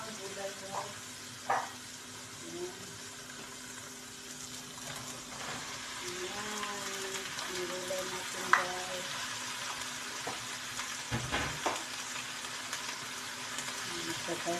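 Mixed vegetables and tomatoes fry in a pan with a continuous low sizzle, broken by occasional clinks and scrapes of stirring, while a person talks quietly over the cooking.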